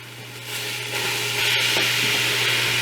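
Ground beef browns in a pan with a steady broad sizzle that swells after the first half second, with faint scraping and a low hum beneath.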